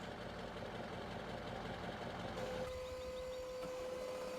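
A tractor engine idles steadily in Farming Simulator 15, a low continuous hum that holds throughout, with a sharp tonal change partway as the game sound shifts.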